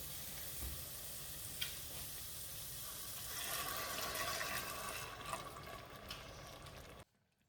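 Tomato paste frying in a pan gives off a loud steady sizzle, and the sizzle swells into a rushing hiss and bubbling as hot water is poured in, then the sound cuts off abruptly.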